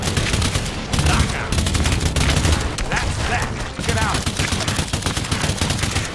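Continuous loud gunfire in the alien shooter game Earthfall as weapons blast apart alien cocoon pods, dense rapid shots sustained throughout with no talk.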